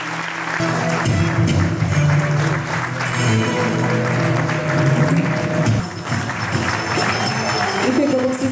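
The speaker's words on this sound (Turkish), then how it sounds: "Alkışlarımız genç yetenekler için." An audience applauds young talents at a municipal cinema-sector event in İzmir, a sustained wash of clapping from a crowd that swells and then eases, with some voices mixed in.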